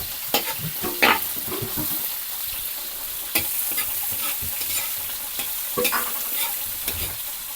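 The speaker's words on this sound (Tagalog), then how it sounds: "Papupulahin din natin yung manok, no? Yung karning manok na native, papupula-pulahin din natin ang laman." Native chicken meat sautéing in a pan, with a steady sizzle and frying crackle under repeated stirring and scraping clatter, fairly close and continuous throughout.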